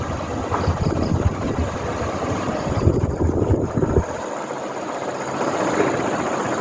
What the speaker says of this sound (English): That rattling sound is coming from the roofing sheet because this fan is making some vibrations.